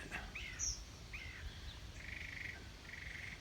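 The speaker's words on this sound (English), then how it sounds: "That's another mockingbird." Mockingbird singing outdoors in a pasture, several short, varied chirps and whistled phrases at moderate distance with a buzzy repeated note, over steady low machine or wind rumble.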